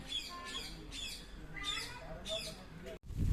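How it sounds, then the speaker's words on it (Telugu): Yellow parrots at the Vizag zoo give repeated harsh, rising squawks in a steady rhythm, several birds calling near the camera over low background murmur, ending in a brief loud rumble. "Yellow parrots zone."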